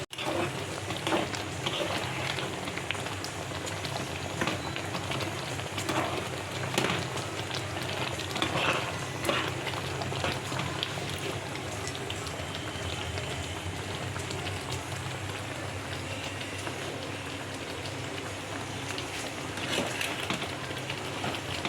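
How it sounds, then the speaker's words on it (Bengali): A pot of curry bubbles and boils steadily, making a dense, even crackle with small popping bursts that continues throughout at moderate loudness. "মাঝে মাঝে একটু নাড়িয়ে দিতে হবে, আর এটা ফুটবে।"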